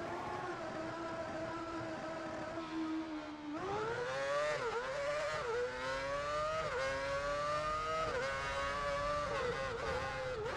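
Formula 1 car engine in the F1 2006 video game on the Bahrain circuit, running heavy on fuel, loudly and continuously droning with rising and falling pitch through gear changes and acceleration, no talk.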